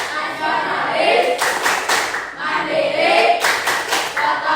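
A class of students claps out the rhythmic 'tepuk PPK' chant, two bursts of quick, crisp hand claps set between chanted voices in a classroom.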